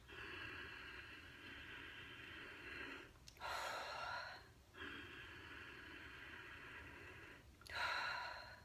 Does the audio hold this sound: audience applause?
no